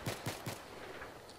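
Three quick gunshot bursts from Battlefield 3, loud and close at the start, then fading into a low rumbling battlefield bed with faint distant pops.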